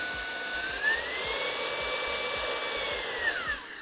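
A Vax Blade 2 Max 40v cordless vacuum cleaner running on turbo gives a steady high motor whine with a bright tonal pitch that rises and holds, a faint rhythmic ticking beneath it and no talking.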